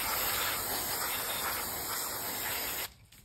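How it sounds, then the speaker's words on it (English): Cleaner sprayed in a long continuous hiss onto an item from 1995, close and steady for almost three seconds before cutting off abruptly into near silence. "people basically just spray the shit out of it"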